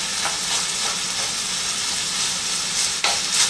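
Cabbage for moo shu pork sizzles steadily in a hot pan, a loud, even frying hiss that runs unbroken with a few brief spatters and no voices.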